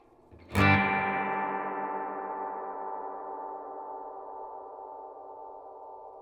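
A struck note sent through a Subdecay Super Spring Theory reverb pedal set to a long decay, blooming in loud with a sharp attack and then hanging on as a rich, slowly fading spring-reverb tail for several seconds, with no voices.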